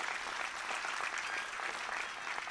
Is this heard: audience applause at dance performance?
yes